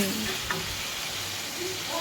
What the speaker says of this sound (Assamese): তাৰপিছত হাঁহৰ মাংসটো মই দি দিছোঁ। দি পেলাই ভাজিছোঁ